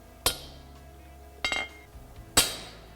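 A power hammer strikes a titanium hammer head during forging, three sharp, ringing metallic blows about a second apart over a low hum from the shop, close and loud, with no talking.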